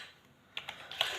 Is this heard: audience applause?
no